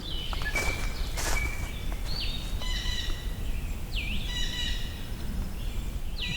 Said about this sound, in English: The trill here could be dark-eyed junco, could be pine warbler.